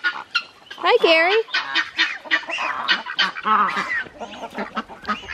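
Young geese honking repeatedly up close, a busy run of squeaky, overlapping calls with brief gaps.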